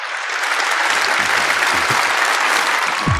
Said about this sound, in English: Let's give a huge round of applause to Richard and Bret Weinstein.